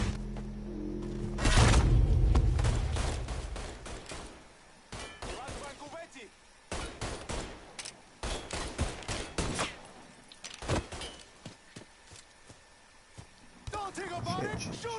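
Gunfire from a Mafia 3 firefight: a heavy opening blast, then scattered shots and thumps, some in quick clusters, with voices and shouting throughout.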